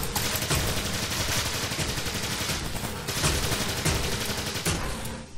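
Dense, continuous gunfire in the video game Project A.P.E., rapid overlapping shots and bursts sustained loudly throughout with no pauses.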